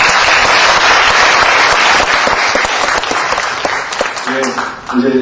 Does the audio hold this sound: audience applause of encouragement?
yes